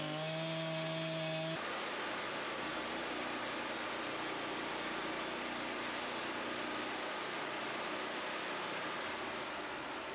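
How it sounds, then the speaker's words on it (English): A small Husky chainsaw idles briefly with a steady hum, then roars into a loud continuous cut, stripping bark off a log at a sawmill, droning unbroken to the end. "out comes that little husky chainsaw, whittle it down a little bit"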